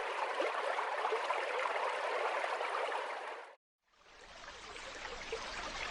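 River water rushes through the Taroko canyon in Hualien, Taiwan, a steady broadband roar that cuts out briefly to silence and then resumes slightly quieter.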